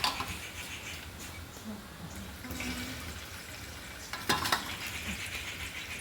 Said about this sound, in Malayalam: ഇതിലേക്ക് കുറച്ച് ഓയിൽ വെച്ചിട്ട് ചിക്കൻ ഒന്ന് ഫ്രൈ ആക്കി